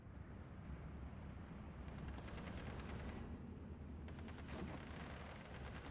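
Dense, continuous battlefield gunfire from the Steel Division 2 wargame, a tournament match on the Orsha North map, with overlapping shots and crackling bursts that swell in places against a constant roar of combat.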